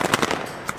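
Small Naughty Boy mini firecrackers go off in a rapid crackling burst of a few sharp pops, then one last quieter snap, close by.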